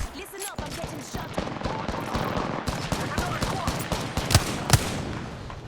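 Gunfire in Apex Legends, rapid bursts of shots crackling in quick succession with a few louder close cracks near the end, while voices talk over the action.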